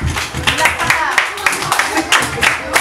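Children clap their hands at an eighth birthday party in Miagao, a lively burst of uneven, overlapping claps close by, with an adult voice talking over them.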